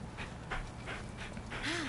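Rhythmic dog panting in quick bursts from a video game dog, close and moderately loud, with a faint whimper near the end.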